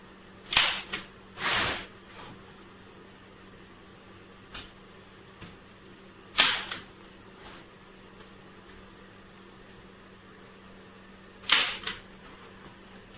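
Linen being stapled onto a wooden frame: a handful of sharp, loud staple-gun snaps spaced several seconds apart, some coming in quick pairs, with a quiet room between them.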